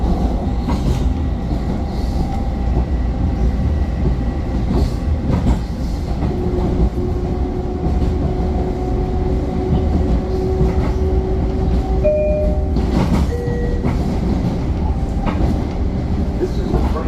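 A Bombardier M7 commuter train on the Hempstead semiexpress run toward Jamaica rolls steadily from inside the car, with a constant loud rumble, faint clicks over rail joints and brief tonal whines from the motors.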